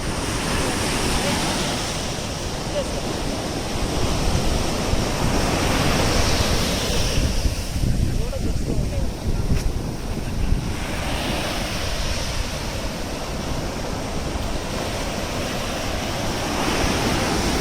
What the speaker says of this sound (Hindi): हम लोग बीच के साइड में है, समुंदर के साइड में है